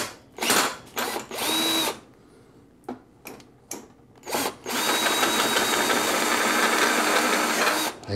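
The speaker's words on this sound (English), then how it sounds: "My bits are wearing down. It's getting more and more difficult to drill." A power drill with worn bits is drilling out the lock on a toy vending machine. Several short, loud whirring bursts and clicks come first, then a long, sustained, close, high-pitched grinding run.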